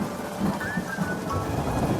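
Cartoon sound effect of a thunderstorm with heavy rain, a dense, loud hiss of downpour with low rumbling thunder running steadily throughout.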